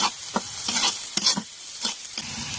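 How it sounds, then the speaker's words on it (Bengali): Chickpeas frying with salt and turmeric in a pan, a soft background sizzle broken by several sharp spatula scrapes and stirs at irregular intervals, close and fairly quiet with no talking. "এখন এটাকে ভালোভাবে একটু ভেজে নিচ্ছি।"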